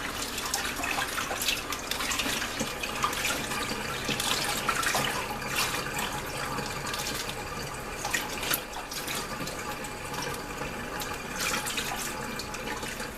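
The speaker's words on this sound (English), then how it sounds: "Squeeze the bag, make sure all the beef jerky is marinating, and all you do is drop it in the water." Water sloshes and splashes steadily in a bowl as a sealed bag of marinating beef jerky is dropped in and settles, a close, continuous watery wash with small bursts, no voices.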